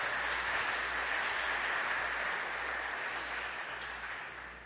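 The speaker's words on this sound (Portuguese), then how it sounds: "Vamos aplaudir o Senhor por isso" A church congregation applauds the Lord during a worship service, a dense, continuous wash of clapping at moderate volume with a low hum underneath, slowly tapering over a few seconds.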